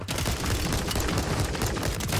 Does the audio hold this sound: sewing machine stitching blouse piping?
no